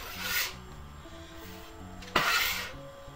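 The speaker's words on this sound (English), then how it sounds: "that's where the bench knife comes in. Simply scrape and fold it over" Bench knife scraping and folding baguette dough on a floured surface: two soft rasping scrapes, one near the start and a sharper one past midway, fairly close and quiet, with no talking.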